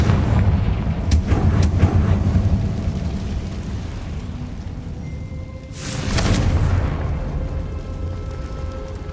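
In Hogwarts Legacy, Confringo blasting-spell explosions boom loudly over a constant heavy rumble, with a few sharp cracks early on and a second big burst further along that swells and fades.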